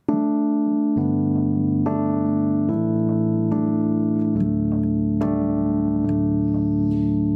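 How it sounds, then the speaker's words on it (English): Sustained electric piano chords ring out alone, a new chord struck roughly every second, each one warm and humming as it fades. "we can also use an electric piano,"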